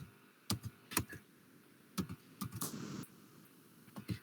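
Computer keyboard keys are tapped in short irregular bursts and single clicks while coding, quiet and close, with gaps of near silence between strokes.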